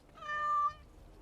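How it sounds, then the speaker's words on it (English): A single drawn-out cat meow in the Dragon Age Origins video game, clear and fairly close, lasting about half a second over a quiet background. "Little kitty there makes me want to vomit."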